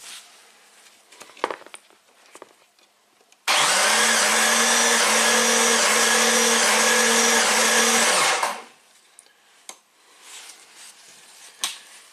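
A Jeep 4.0L engine cranks on its starter during a compression test, a loud steady rhythmic churning that starts abruptly, runs for about five seconds and cuts off, with quieter handling noises before and after.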